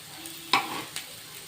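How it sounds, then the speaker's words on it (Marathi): Spinach vadi pieces fry in a pan as they are turned, giving a soft background sizzle broken by a sharp scraping stir and a second, fainter one shortly after. "आता दुसऱ्या साईडने भाजून घेऊया"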